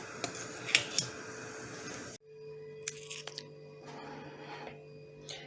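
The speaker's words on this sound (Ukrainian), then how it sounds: "її потрібно буде мішати вінчиком, допоки не розійдеться гірчиця" A whisk scrapes and clinks against a bowl while stirring mustard into a marinade, in quick close metallic taps over a rough swishing bed. Quieter clicks and small handling sounds follow.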